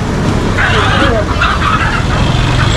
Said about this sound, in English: Look at these birds right here. Live birds, live birds.